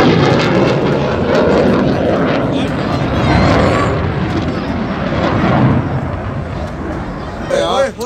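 An F-16 fighter jet flies during a rehearsal for the 23 March 2020 parade in Pakistan, a loud, sustained roaring engine rumble that swells and fades, with people talking over it.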